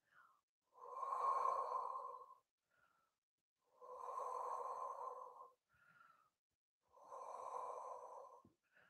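Slow, deep breaths during a Pilates full-body stretch, three long airy inhale-exhale swells about three seconds apart with quiet gaps between, close and soft, and no talking.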